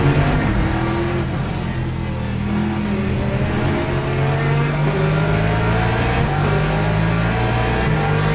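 Corvette race car engine at Imola in the Le Mans Ultimate video game, a loud, sustained mechanical roar with rising and falling revs as the car accelerates and shifts, steady and close throughout with no voices.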